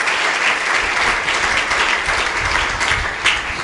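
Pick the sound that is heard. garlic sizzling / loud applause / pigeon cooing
loud applause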